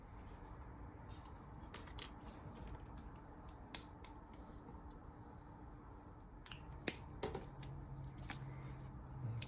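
Scissors cut through a folded paper character standee with a run of crisp snips and clicks, close and fairly quiet, spaced unevenly with a few sharper cuts near the end.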